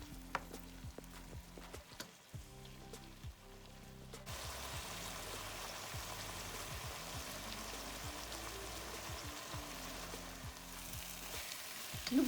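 Spinach, shrimp and sardines cook in a pot, a soft continuous sizzle and bubbling that swells after a few seconds, with low intermittent tones in the background.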